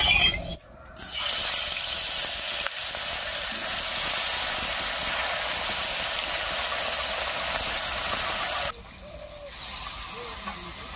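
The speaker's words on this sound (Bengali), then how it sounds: "তেল গরম হয়ে গেছে, এবারে মাছগুলো ভেজে নেব।" Fish frying in hot mustard oil in a wok, a loud, steady broadband sizzle with a hiss that runs almost the whole time, dropping away briefly near the start and again near the end.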